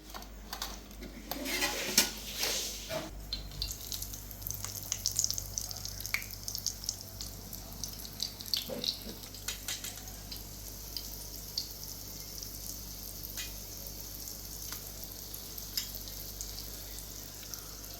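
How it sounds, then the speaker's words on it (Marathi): Marinated rawas (Indian salmon) pieces frying in a pan, a steady crackling sizzle with bursts of spitting oil and a few clinks of utensils, close and fairly quiet throughout. "हे आमचे फ्राय पीस बघा. हे बघा मित्रांनो, आता बाकीचे फ्राय करूया बघा"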